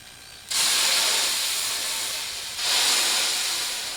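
Water droplets hiss and sizzle on a hot Blackstone 28-inch griddle, a loud broadband burst that fades slightly, then a second flare of sizzling as more water hits the steel, with no voices.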